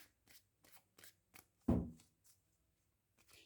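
Tarot cards are shuffled by hand, making soft, quiet riffling flicks at an irregular rhythm, with one louder, fuller riffle near the middle.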